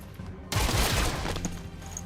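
Rapid burst of gunfire from a squad breaching in the tactical video game XCOM Chimera Squad, erupting suddenly after a quiet moment and rattling on loudly for well over a second.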